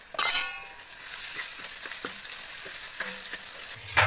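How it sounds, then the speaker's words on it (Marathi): Coriander leaves fry in hot oil with a steady bright sizzle, broken up by spoon stirring and a few light clinks of metal against the pan, close and with no talk. "थोडासा कोथिंबीर आपण तेलामध्ये होऊ द्यायचं आहे"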